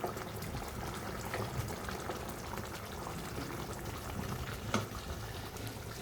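Fish curry gravy in the style of maach bhuna simmers in a pan with a steady, close bubbling and crackle, with one louder pop near the end and no talking.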